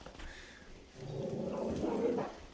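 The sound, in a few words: dog whimpering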